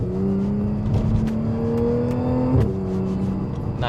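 Supercharged car engine revving up and settling back, a loud close whine rising and falling over a few seconds with an occasional sharp exhaust pop.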